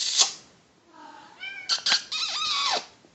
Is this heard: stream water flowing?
no